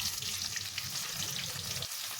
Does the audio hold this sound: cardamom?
yes